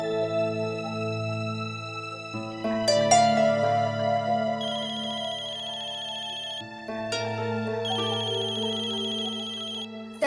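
A mobile phone ringtone playing a repeating electronic melody with bright high tones, loud and close in an indoor family home, with no talk over it.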